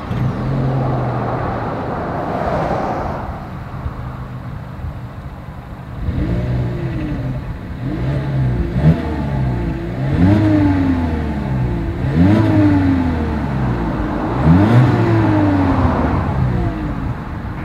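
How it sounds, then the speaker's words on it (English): A 2020 Volkswagen Jetta exhaust recorded while the engine is revved repeatedly, an idle followed by a series of rising and falling throttle blips roughly every two seconds, close and fairly loud with no talking. "As always, here is that exhaust clip."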